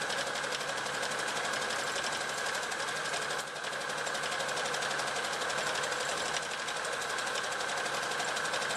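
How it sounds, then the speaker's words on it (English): A sewing machine stitches through many thick layers of handbag fabric at the point where seams meet, a steady fast mechanical whirring hum that runs continuously with only a brief dip midway and no speech. "Quite a few layers of fabric we're going through at this point, so if your machine's not up to it, then just take it slowly"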